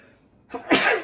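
A single sharp sneeze, a quick inhale followed by a loud explosive burst, close by.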